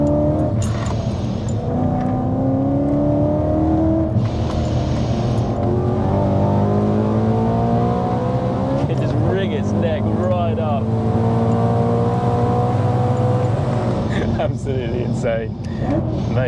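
A 680 bhp supercharged manual BMW E92 M3 revs and accelerates hard, loud rising engine notes with supercharger whine and gear changes, sustained and close throughout, with voices talking underneath.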